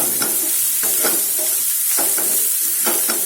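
Ginger garlic paste sizzling in a hot pan while being stirred, a steady frying hiss broken by scraping spoon strokes every half second or so, close up with no talking.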